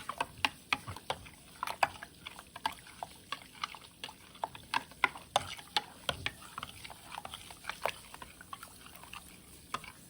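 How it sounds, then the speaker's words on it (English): Liposomal vitamin C mixture being stirred, steady clinking and scraping strokes in an irregular rhythm, close and fairly quiet, with no talking. "mix this for a few minutes and probably get this stirred up a little bit more"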